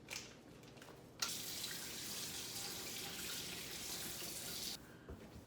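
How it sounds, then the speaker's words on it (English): Raw chicken rinsed under a cold kitchen tap: a steady, fairly faint rush of running water that starts after a second and cuts off near the end, with no talking. "take our chicken out of the bag and give it a rinse in some cold water"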